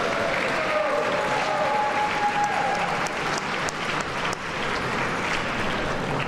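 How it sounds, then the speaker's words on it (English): A gathered crowd celebrating Mayor Harold Washington's 100th birthday breaks into steady, moderately loud applause that runs the full length, with faint voices mixed under the clapping. "please accept our great round of applause for all that you did"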